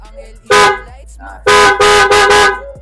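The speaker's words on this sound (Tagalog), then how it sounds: "Yung sa busina niya, eto. Stop. Loud horn." Aftermarket horn fitted to a Honda Click 125 scooter blares in loud, close honks, one short blast followed by a longer series of three, with a brief voice between them.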